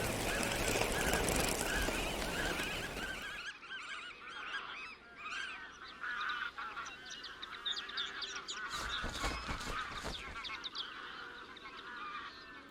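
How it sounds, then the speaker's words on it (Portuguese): Large flocks of geese and other waterfowl in an estuary of mudflats, salt marsh and farm fields, honking and calling continuously in a loud, layered chorus, with a dense roar of many birds at first that thins to distinct overlapping honks. "Um complexo de habitats estuarinos que inclui vasas, sapais e campos agrícolas acolhe bandos de milhares de aves"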